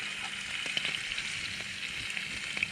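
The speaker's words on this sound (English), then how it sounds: "I'm just cooking the bacon first because once I get that a bit crispy" Bacon frying in a small pan outdoors, a steady, even sizzle held close and fairly loud for a few seconds with a few faint pops.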